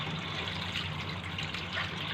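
Small shrimp rinsed one by one under a running kitchen tap, a soft, steady trickle and splash of water with no talking.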